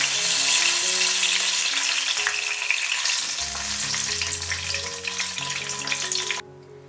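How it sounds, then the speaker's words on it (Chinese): Scallion, green onion and cilantro pieces fry in hot oil in a wok over low heat with a loud, close, steady sizzle that thins toward the end and then cuts off abruptly. "然后我们来起锅热油，把配菜放进来，小火炸香。"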